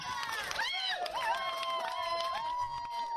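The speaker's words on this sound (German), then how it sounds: "Jubel vor dem Gericht in Den Haag" Outdoor crowd of environmental activists celebrating in front of the court in The Hague, with cheers, whoops and shouting voices layered over one another, fairly distant and continuous throughout.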